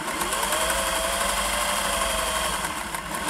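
A vintage Singer 401a sewing machine runs steadily while stitching through four layers of fabric, a continuous close mechanical whir and hum with no breaks.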